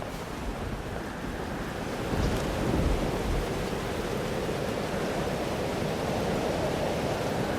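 Heavy thunderstorm in the Life is Strange game: a steady, loud wash of rain and wind with a deep rumble swelling around the middle, continuous throughout with no voices.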